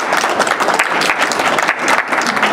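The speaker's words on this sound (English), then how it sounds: "Let's give him a round of applause." Steady, dense applause from an audience at a county community event, greeting the Nassau County health commissioner, loud and continuous throughout with no pause.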